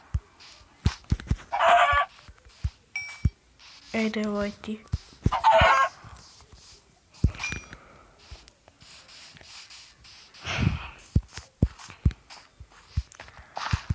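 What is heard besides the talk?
chickens clucking in Minecraft video game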